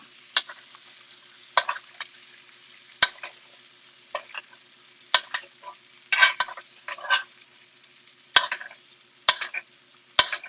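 Beets are stirred into melted butter with vegetables in a pan, giving soft sizzling and irregular scraping bursts with occasional sharp utensil clicks against the pan, fairly quiet and with no talk.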